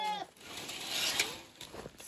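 Goats at a village home bleat once at the start, loud and close, against a steady outdoor hiss with faint movement noise.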